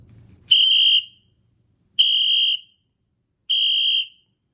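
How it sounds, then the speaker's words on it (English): A loud shrill whistle blown three times by a teacher in short, evenly spaced blasts, with silence between them. "If they blow it 3 times really loud"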